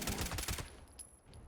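The Mysterious Stranger character in Fallout 76 firing a quick run of shots, a faint, rapid rattle of about half a dozen closely spaced reports that cuts off abruptly into quiet, with no talking.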